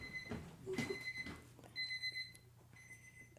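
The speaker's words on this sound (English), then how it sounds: "It's my alarm in my bathroom that I don't know how to take off." A bathroom alarm clock beeps in repeated bursts of high, steady tones, fairly quiet and a little distant, with short pauses between the sets.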